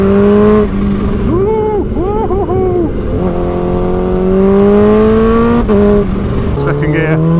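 A Kawasaki Ninja H2 motorcycle with a 250-horsepower engine revs and pulls in steady rising and falling tones, loud and close, while someone talks over it.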